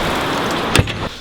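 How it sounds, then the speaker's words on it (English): Heavy rain hisses steadily just outside a garage during work on a Mazda RX-7, with a brief knock partway through. "It's raining quite hard outside."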